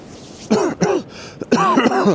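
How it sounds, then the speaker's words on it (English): A few rough coughs and throat clearings, close by, in short bursts separated by brief pauses, on a beach in Northumberland. "Sorry, I'm coughing."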